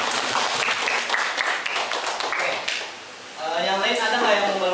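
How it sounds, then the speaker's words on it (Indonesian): Schoolchildren in an Indonesian classroom clap for a classmate, a brisk burst of applause for about three seconds, then a brief lull before other sounds resume. "tepuk tangan buat Mawar"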